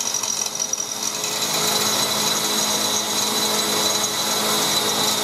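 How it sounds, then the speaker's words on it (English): A power drill whines continuously at high speed, loud and close, with a brief stutter at the start before settling into a steady grinding drone, drilling holes for bump stops while lifting a Jeep. "Drilling for bump stops."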